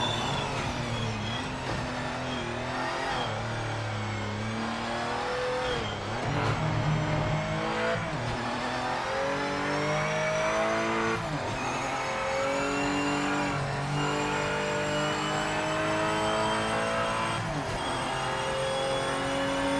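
Race cars in the Project Motor Racing video game, engines revving up and down through gear changes with tire squeal, a continuous loud, layered roar of several cars throughout.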